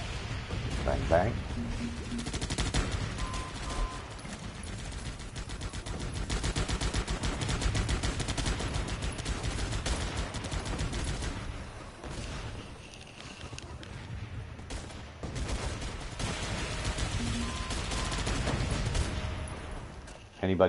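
Sustained gunfire from the wave-defense game Guns Up fills the stretch, dense and continuous with machine-gun-like bursts and heavy battle noise throughout, briefly dipping before resuming loud to the end.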